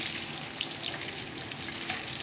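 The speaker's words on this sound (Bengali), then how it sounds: "ডিমটা ভেজে নিচ্ছি" An egg fries in a pan with a steady, fairly quiet hiss and crackle of hot oil, close up and unbroken, with no one talking.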